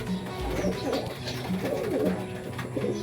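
Soft, repeated pigeon coos rise and fall in a low, rounded rhythm, close by, with faint background murmur underneath.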